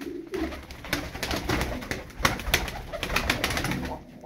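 Turkish play pigeons in a light colour flap and coo nearby, with soft throaty coos mixed with rapid wing claps that flutter through the whole stretch.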